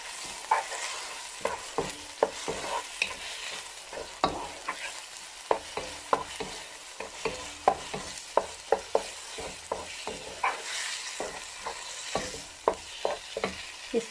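Minced meat (keema) fries in a pan while a spoon stirs it, giving a steady close sizzle with irregular sharp scraping clicks throughout.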